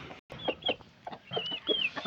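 A farmyard hen and rooster, about six months old and near two kilograms each, cluck softly and close by in short, uneven bursts with small gaps between them.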